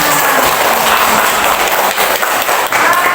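Schoolchildren in a classroom clap together in a dense, steady burst of applause that fills the whole moment, close and fairly loud.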